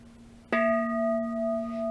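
A Buddhist bell dating from the 1930s is struck once, its clear tone sustaining and slowly shimmering after the sharp hit, close and alone.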